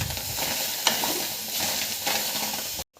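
Chilies, tomatoes and onion sizzle in a pan while being stirred, a steady close frying hiss punctuated by scraping spoon strokes, ending abruptly.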